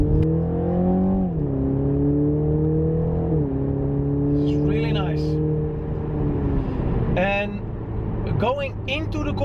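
A 2019 BMW Z4 20i pulls hard while driving, its engine drone climbing steadily and dropping briefly at gear changes, loud and continuous from the cabin with faint chirps over the top.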